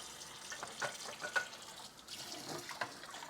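Running tap water splashes over a pan being rinsed in a sink while washing dirty dishes, a steady close hiss and patter with brief louder splashes as the pan is moved under the stream.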